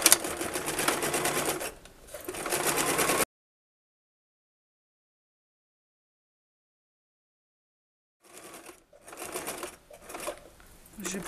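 A sewing machine runs in two bursts of rapid, steady stitching, with back-tacking on a skirt seam. A long silent gap separates the bursts, and the second burst is quieter and choppier.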